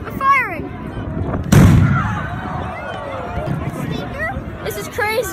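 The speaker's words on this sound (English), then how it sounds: "They're shooting again?" Gunfire from people shooting nearby, one loud sharp report with a booming tail near the middle, amid people talking and calling out.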